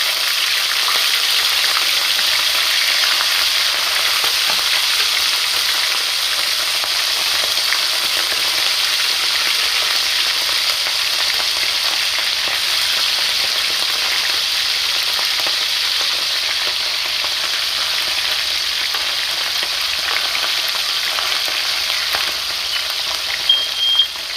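Sprat fish fry Jamaican style in a pan of hot oil, a loud, dense, continuous sizzle that holds steady throughout, close up and with no speech.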